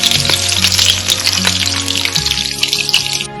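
Chicken seekh kababs sizzle and spit in a hot pan, a close, bright frying crackle with a few clinks and stirring knocks along the way, and no talking.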